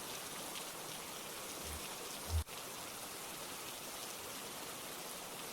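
Steady rain falling on a surface, a dense even hiss of drops throughout with one brief soft thump in the middle, no voices.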